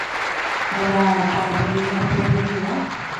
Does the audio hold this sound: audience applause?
yes